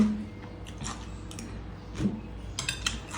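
Close-up chewing of crunchy food eaten alongside Thai cucumber salad, soft wet crunches and bites in a loose rhythm over light background noise, with no talking.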